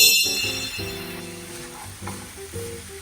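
Onions for a Jamaican jerk sauce fry in a pan with a steady, soft sizzle, close by, under a layer of tonal background music.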